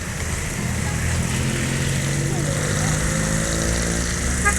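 A Sumatera Barat-bound intercity bus rolls past at night on the road into Palembang, its engine a steady, continuous low drone with faint rising whine, loud and close throughout with no talk over it.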